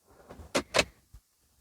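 A sliding glovebox drawer in a Nissan Townstar is pulled open, giving two quick, close plastic slides followed by a soft tap as it stops.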